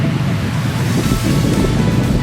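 Ocean waves wash onto a tropical rainforest coast on the Coral Sea, a loud, continuous surf roar with wind buffeting the microphone.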